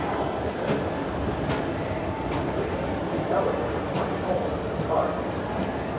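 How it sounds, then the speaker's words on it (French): A subway train rumbles and rattles steadily through a Manhattan station, a continuous rolling roar with faint clicks and muffled voices underneath. "Ça, c'est le métro, hein."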